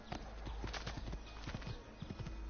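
Horse hooves clip-clop in a steady galloping rhythm in the video game Assassin's Creed Ezio Collection, close and moderately loud, with a brief whinny and a low background hum.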